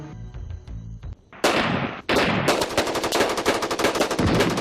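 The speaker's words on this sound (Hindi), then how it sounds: "जवाब आया भारी मोटार और तोप के गोलों से।" Heavy mortar and artillery fire pound in a dense, relentless barrage of rapid blasts, loud and close, with no voices, in a 1965 battle at Sardar Post.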